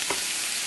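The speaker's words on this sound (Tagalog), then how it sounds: "Haluin lang natin." Pork afritada being stirred in a pot with tomato sauce, bay leaves, beef broth and water: a steady, close bubbling sizzle with one short stirring scrape near the start, no voices.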